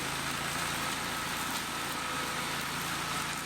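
A Steiner tractor's engine drones steadily while it mows grass near a ditch, a constant mid-level hum with no voices.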